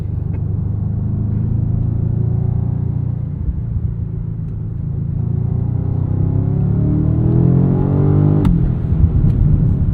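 2025 BMW M5 G90 hybrid driving in sport mode, a deep steady engine rumble rising as it accelerates, loud and close from inside the cabin, with a couple of brief clicks near the end.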